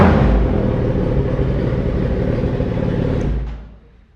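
A 2014 Suzuki Hayabusa motorcycle with an aftermarket exhaust gives a loud, sustained rev, a dense roaring blare that holds steady and then drops away sharply near the end.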